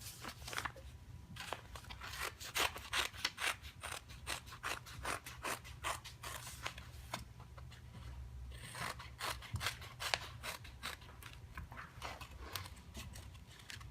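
Scissors snip through a painted and stamped fabric doll with paper or interfacing backing, a steady run of crisp, close cuts with short pauses between strokes, no voices.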